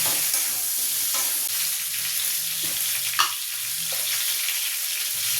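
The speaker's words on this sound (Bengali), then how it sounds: "এবার পটলটা আমি লাল লাল করে একটু ভেজে নেব।" Pointed gourd (potol) fries in hot oil for a prawn dish, a close, continuous sizzle with occasional stirring knocks and scrapes, no one speaking.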